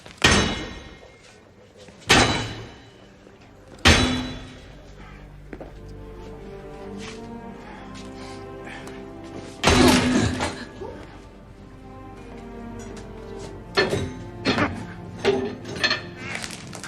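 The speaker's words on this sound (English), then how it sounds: "The next most powerful scene is him then quite literally smashing down the sign." A restroom sign is smashed down in a film scene: several heavy, loud crashing blows land at irregular intervals, ringing and rattling between hits over a dramatic musical background.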